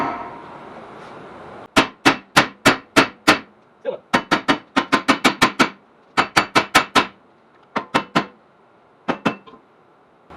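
Repeated sharp metallic hammer blows on a rusted rear hub bearing of a Ford Taurus, struck in quick bursts of several hits with brief pauses between, loud and close over a faint background hum.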